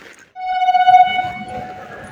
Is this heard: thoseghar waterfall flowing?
no